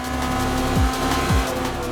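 Heard from onboard, a race car laps the Gingerman circuit with a steady, loud engine drone. Two quick downward pitch drops break it up in close succession, like shifts or lifts, and no voices are heard.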